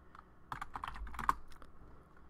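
A brief run of computer keyboard typing while a Cisco Catalyst 2960 enterprise switch is being configured, with quick, fairly quiet keystrokes in an uneven rhythm.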